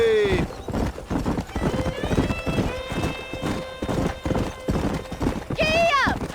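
A horse in the video game Red Dead Redemption galloping, quick rhythmic hoofbeats throughout, with a whinny at the start and another near the end, along with game music tones.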